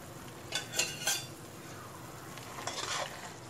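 A spoon scrapes and clinks against a pan as rava is stirred into cooked vegetables for rava kichadi, with a few sharp clatters early on and then a softer stretch of scraping over a quiet background.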